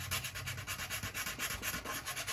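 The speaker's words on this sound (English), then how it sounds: "so I don't have a sharp edge on the dowel when I'm sanding" A wooden dowel for a Top Flite .60 size Gold Edition P-40E Warhawk model is sanded with steady, rhythmic back-and-forth strokes, close and continuous, and no voice is heard.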